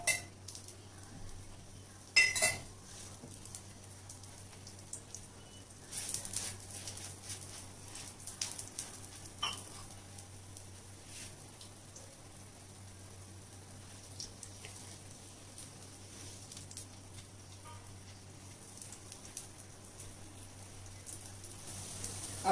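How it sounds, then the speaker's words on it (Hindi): Jain rajma galouti tikki shallow frying in a pan over a slow-to-medium flame, giving a soft, steady, faint crackling hiss with a few light utensil clinks and no talking. "मैं इसको शैलो फ्राई कर रही हूं, आप इसको डीप फ्राई भी कर सकते हैं।"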